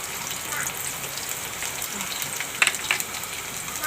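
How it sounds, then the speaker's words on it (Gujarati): Cumin seeds and garlic sizzling in hot oil, a soft steady crackling hiss with a few brighter pops near the end, heard fairly faintly and alone. "તો પહેલાં આપણે જીરું નાખી દેવું, અને લસણ નાખી દેવું."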